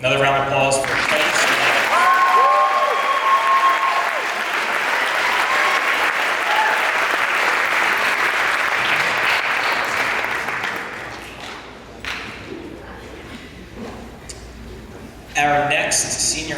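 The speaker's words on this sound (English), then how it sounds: "Another round of applause for Titus" Audience at a school sports awards ceremony giving a loud, sustained round of applause in an indoor hall, with cheers and voices mixed in, fading out to a speaker talking.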